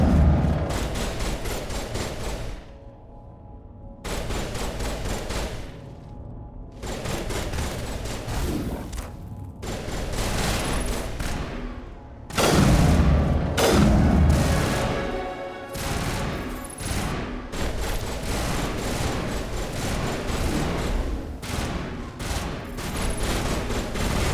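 Sustained gunfight in the sci-fi shooter Mass Effect, with loud volleys of rapid weapon fire in long bursts broken by short pauses, filling the scene with steady crackling shots.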